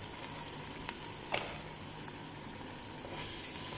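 Tomatoes sizzling in a pan for butter chicken, a soft, steady frying hiss with a couple of brief clicks from stirring, fairly faint and without talking.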